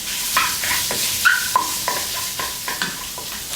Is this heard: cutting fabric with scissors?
no